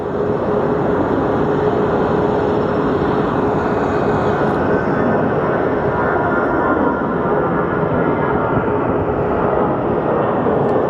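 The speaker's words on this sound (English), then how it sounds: "our Dreamliner is gonna be making it over the bridge" A Boeing 787 Dreamliner passes over near Phoenix Sky Harbor Airport, a loud, steady broadband engine roar that holds without letup for the whole stretch, close and dominant with no talk.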